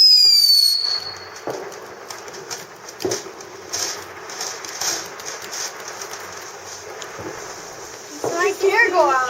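New Year fireworks rockets crackle and pop in a series of sharp bursts, with a whistling launch at the start and a crackling flurry near the end, while people talk nearby.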